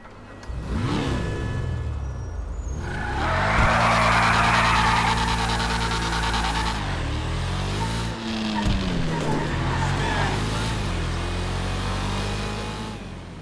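A TVR Sagaris-style sports car engine in GTA Online revs and roars through the gears, pitch rising and falling with shifts, loud and continuous with some tire noise.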